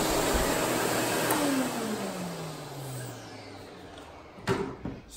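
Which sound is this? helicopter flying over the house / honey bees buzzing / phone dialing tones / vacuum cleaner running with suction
vacuum cleaner running with suction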